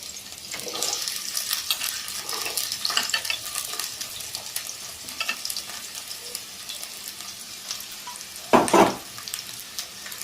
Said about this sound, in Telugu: ఆయిల్ హీట్ ఎక్కింది. ఉల్లిపాయ ముక్కలు వేసుకొని కలుపుకుందాం.